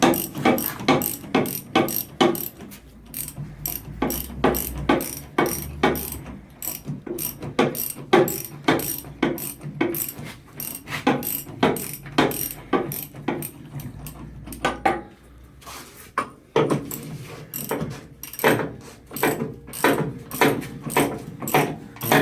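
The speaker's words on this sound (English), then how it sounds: "loosen the bolts and drop on the subframe" A hand ratchet clicks in long rapid runs as it loosens the front subframe bolts on a classic Mini during restoration, loud and close with brief pauses between strokes.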